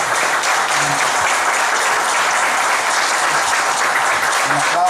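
A conference audience applauds a female minister, Margarita Luna, with steady, dense clapping that holds loud and continuous throughout, a few voices faintly mixed in.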